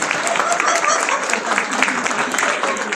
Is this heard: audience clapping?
yes